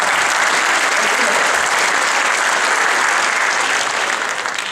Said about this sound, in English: Let's give this young man a clap.